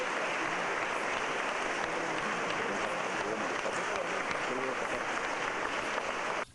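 Deputies in a legislative chamber applaud newly sworn magistrates, a dense, even wash of many hands clapping that holds steady throughout before cutting off abruptly at the end.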